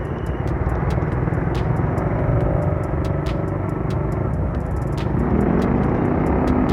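A manual motorcycle runs on engine oil and rides fast. Its steady engine drone and rumble blend with wind noise, and gear shifts come through as brief changes in pitch. No one talks.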